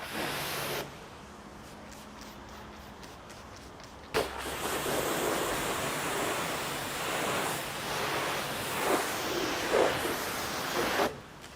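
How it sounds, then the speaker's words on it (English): A steady rush of spraying water runs close by for several seconds, broad and hissing, with brief breaks and shifts in intensity as a car panel is rinsed after ceramic boost spray, in winter. "spray on the ceramic boost, rinse it immediately"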